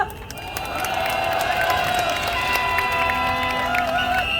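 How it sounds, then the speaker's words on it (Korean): A crowd at an outdoor candlelight rally applauds and cheers in a continuous, steady wash, with voices shouting through the clapping. "큰 박수 부탁드립니다"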